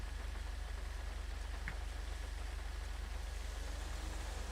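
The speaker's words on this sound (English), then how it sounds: "I really wish it wasn't raining, though." Steady rain falls in a GTA roleplay game world, an even, continuous hiss of downpour at moderate distance with a low engine-like hum beneath and one brief faint blip midway.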